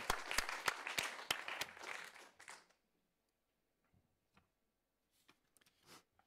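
A small audience at a book premiere for the novel Zeit der Wildschweine claps for the illustrator, with distinct individual claps for about two and a half seconds before it drops to near silence broken by a few stray taps.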